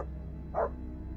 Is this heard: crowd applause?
no